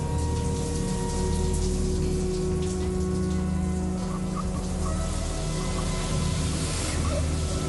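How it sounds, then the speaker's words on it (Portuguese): A shower runs steadily, water hissing and spattering without pause at a constant, moderate level. "o chuveiro estava ligado e as torneiras abertas"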